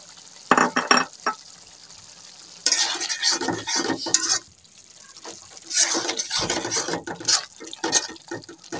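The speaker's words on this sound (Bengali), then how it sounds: "ডিম বোনা করার জন্য মশলাগুলোকে কষিয়ে নিচ্ছি।" Spices being stir-fried in a pan for a duck egg curry, with bursts of sizzling and scraping stirring that come and go in short rhythmic spells close up.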